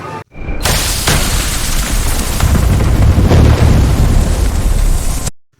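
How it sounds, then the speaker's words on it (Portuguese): A grenade explosion in the Final Fight 2 video game on Super Nintendo: one loud, sustained, roaring boom that fills about five seconds before cutting off abruptly. "Em uma das cenas, um capanga solta uma granada e acaba eliminando o próprio companheiro."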